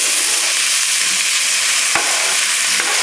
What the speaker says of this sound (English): And now we're going to put the vegetables right in there.